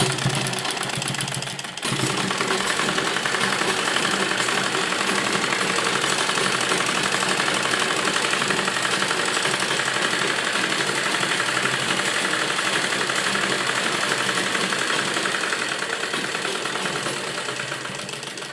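A sewing machine stitching the seam of an A-line palazzo with lining runs in one steady, continuous whirring stretch after a brief pause at the start, close and fairly loud throughout.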